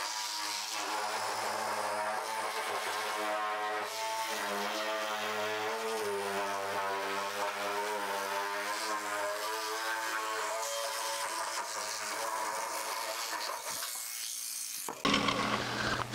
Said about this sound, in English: I'm going to try just cutting it right out with the cordless shears.